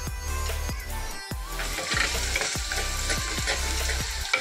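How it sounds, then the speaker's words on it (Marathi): Onions sizzle and fry in a pan for Malvani kaleji masala, a close continuous crackle punctuated by several sharp scrapes and knocks of a spatula being stirred through. "मस्त कांदा भाजतोय बघा"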